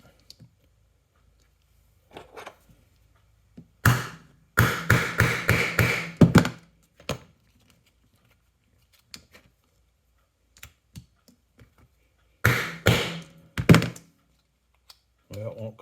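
A metal punch is tapped to knock a part out of a Dinky die-cast Mercedes-Benz 220 SE model, giving two dense bursts of sharp, rapid clicks and thunks close by, separated by quiet stretches with faint talk.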